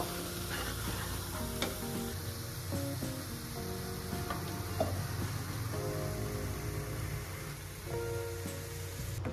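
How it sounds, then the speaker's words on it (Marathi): Spice paste for misal pav frying in hot oil, a steady close sizzle with occasional stirring scrapes, continuous and alone without talk. "या मसाल्याला आपल्याला छान असं तेल सुटतपर्यंत शिजवून घ्यायचं आहे"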